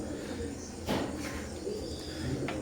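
Oman bloodline Teddy pigeons cooing softly and close by, with a few short coos and rustles over a quiet background.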